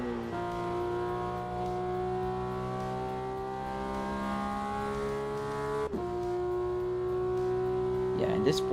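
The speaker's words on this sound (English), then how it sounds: "this Porsche sounds so nice" A Porsche engine in the Assetto Corsa racing simulator, a steady droning tone that climbs slowly, cuts briefly as the car shifts gear, then settles again. A voice speaks faintly over it.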